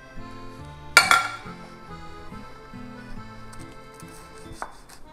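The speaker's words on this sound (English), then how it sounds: "So we're going to cut our bread and slice it." A knife cuts and slices through bread with a sharp knock followed by a few softer cutting scrapes, then another crisp tap, over quiet background music.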